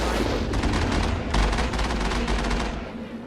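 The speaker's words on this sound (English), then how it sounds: "Now you can use a cannon, but then what happens with the cannon is it has to recharge" Vehicle cannon in the Mass Effect video game firing a loud, sustained barrage of rapid blasts layered with booming impacts, continuous for about three seconds before easing off.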